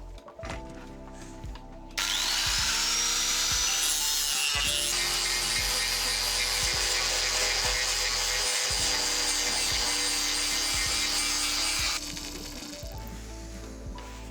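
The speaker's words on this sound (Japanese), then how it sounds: "ちょっと角削るにはこれでは弱すぎるのでグラインダー持ってきましょう。" An electric grinder shaves the corner of a new wooden window frame in a DIY shed build. It bursts in loud and close, holds a steady, harsh grinding whine for about ten seconds, then cuts off with no talking.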